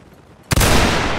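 Napoleonic reenactment regiment's musket volley, a sudden loud ragged crack of many muskets fired almost together after a quiet moment, followed by a sustained roaring rumble and echo.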